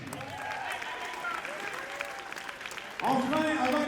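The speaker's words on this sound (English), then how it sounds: "On les applaudit ici, Philippe." Applause from a gala audience rises under a voice, scattered clapping and cheering that swells louder toward the end, with speech and tonal sound mixed in.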